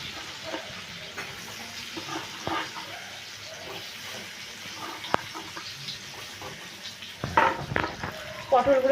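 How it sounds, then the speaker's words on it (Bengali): Coated pointed gourd pieces fry in mustard oil in a wok with a faint, steady sizzle, broken by a few soft knocks and louder bursts of spattering near the end. "পটলগুলোকে আমি এবার লাল করে একটু ভেজে নেব"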